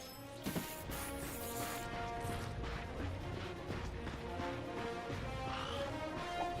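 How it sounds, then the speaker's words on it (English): Wooden crates smashed in the Ratchet and Clank video game, with several sharp cracking breaks in quick succession early on, set over a steady bed of game music and ambience. "Look at him smashing crates."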